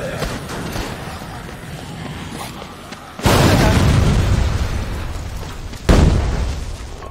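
A van explodes in the video game Dead Rising 3, with a sudden loud boom that rumbles and fades over a few seconds, then a second blast follows, over a background of game noise.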